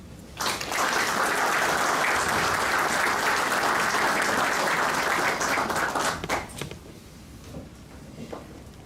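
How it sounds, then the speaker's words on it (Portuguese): A crowd at a book launch for the Ribeira Grande volunteer firefighters bursts into loud, sustained applause that holds steady for several seconds, then quickly dies away into a quiet room. "pedindo também uma salva de palmas"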